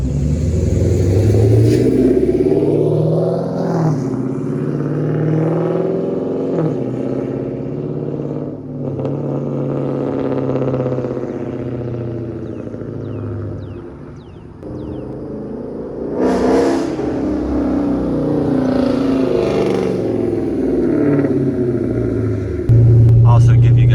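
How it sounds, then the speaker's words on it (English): A loud, modified Dodge Charger R/T engine rumbles and revs, pulling away and accelerating with throaty exhaust roars; voices are heard over it at times. "give you guys a couple clips of what it sounds like when you're driving away"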